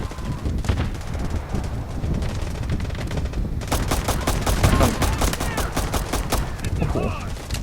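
Heavy gunfire in the shooter game Delta Force, dense rapid bursts and volleys rattling continuously at close range, growing into sustained automatic fire in the second half with some wind-like noise in the background.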